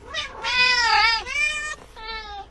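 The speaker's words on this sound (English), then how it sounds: "Everyone shut up, my cat has something to say." A pet cat meows several times in a row, with long, loud, drawn-out calls and short pauses between them. The calls are close and clear, with no talking over them.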